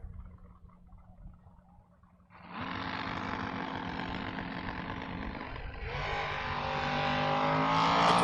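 Two drag race cars, an S10 pickup against a Ford Mustang, launch with a sudden loud roar after a quieter idle, engines revving hard and building in volume as they race away.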